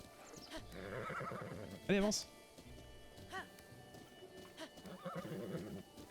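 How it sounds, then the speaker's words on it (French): A horse in The Legend of Zelda: Breath of the Wild gives a loud, rising neigh among steady clip-clopping hooves, with someone talking over the scene. "Eh mon cheval!"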